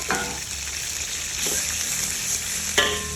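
Ground meat stir-fries in a hot pan for a vegetable dish, a steady close sizzle with a few scraping stirs of a utensil against the pan.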